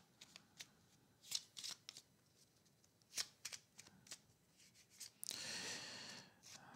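Tarot cards are handled for a nine-card spread: soft sliding and sharp flicks as single cards are drawn and laid down one at a time, close and quiet, followed by a louder, continuous riffling shuffle near the end.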